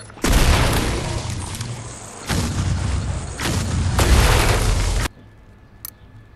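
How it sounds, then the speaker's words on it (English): Sticky mines detonate in Sunset Overdrive: several loud, deep blasts sound in close succession, each a broad booming roar lasting about a second, then the noise drops away to near silence with one faint click. "Launch sticky mines that wait for enemies to get close before exploding."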